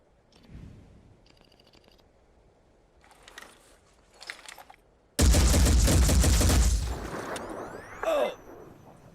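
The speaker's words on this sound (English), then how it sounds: "Let's demonstrate this by taking a shot with our heavy." A heavy soldier in the tactical video game Phoenix Point fires a loud, dense burst of shots. Quiet mechanical clicks and whirs come first, then the abrupt salvo rolls on for about two seconds, followed by a final crack.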